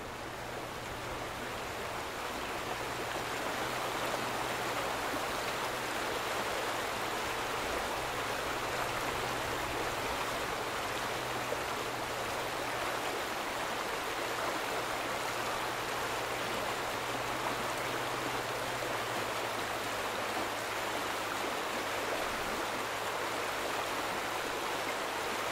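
Water flowing steadily in the video game The Vanishing of Ethan Carter, a constant rushing stream-like wash with no breaks, fairly loud and even throughout.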